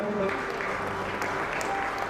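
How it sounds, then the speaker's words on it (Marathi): An audience at a science exhibition prize distribution ceremony applauds, a dense steady wash of many hands clapping that fills the short stretch, with some voices mixed in underneath. "सगळ्यांनी जरा मोठ्या सणासाठी टाळ्या वाजवा"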